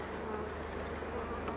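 Honeybees at an opened hive during a spring inspection, a steady low drone of buzzing close by, continuous and fairly faint.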